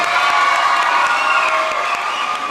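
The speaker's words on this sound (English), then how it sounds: "And keep that applause going." A comedy club crowd keeps up loud applause mixed with cheers and whoops between acts, a steady, dense roar of clapping and voices without a break.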